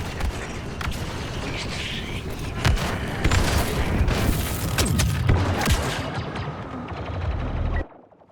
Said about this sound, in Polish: Odsunąć się, granat!